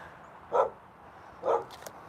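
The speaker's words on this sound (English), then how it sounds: "Pepper's the one that's barking." Two sharp dog barks, evenly spaced about a second apart, fairly close against a quiet background.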